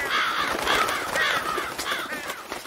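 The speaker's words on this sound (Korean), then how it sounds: "까마귀와 까치들이 은하수로 날아갔습니다." Crows caw in a run of harsh, repeated calls, fairly close and alone, with no talking over them.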